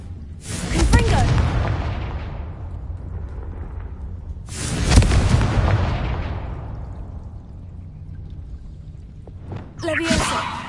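In the Hogwarts Legacy video game, the Confringo fire spell lets off three deep booming blasts, each followed by a long fading rumble. A voice is heard between the explosions.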